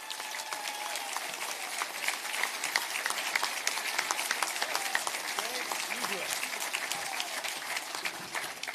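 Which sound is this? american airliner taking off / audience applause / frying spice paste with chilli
audience applause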